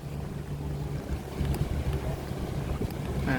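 Strong wind roars steadily across the microphone at a harbour on Manila Bay, buffeting it with a low, rumbling drone and faint splashing water underneath.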